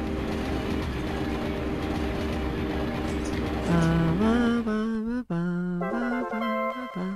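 A green train rides along in the video game Mother 3, its steady rumbling motion joined midway by a tuneful melody with shifting notes, briefly cutting out before resuming.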